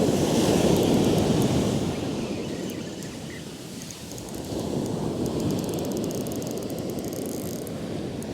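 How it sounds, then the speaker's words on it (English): Violent shore break on a steep section of beach while fishing, heavy waves crashing and hissing up the sand in a loud continuous surge, swelling, easing off midway and building again, with wind buffeting the microphone. "Quite a violent little shore break here on this really steep part of the beach."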